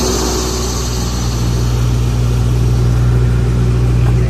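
A train's locomotive engine runs steadily at a road crossing while cars are coupled on, giving a loud, close, continuous low drone with no talk over it.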